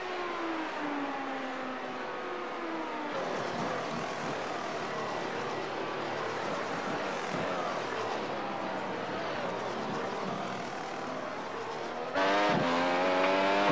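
Race cars in iRacing pull into the pits at Suzuka one after another. Engines whine with shifting pitch, a close steady roar that rises sharply as another car revs up near the end.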